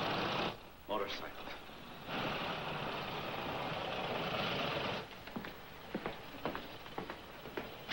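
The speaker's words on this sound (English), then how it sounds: "Motorcycle." A motorcycle engine runs with a loud, rough, steady roar that breaks off briefly, surges again, then gives way to quieter sputtering bursts.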